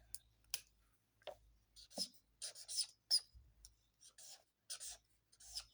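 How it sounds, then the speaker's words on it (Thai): A pen scratching across paper in short bursts of writing strokes with small pauses and taps between them, close and quiet against a near-silent background, with no one speaking. "ขอแอดเขียนกำกับไว้น้อยนึงค่ะ"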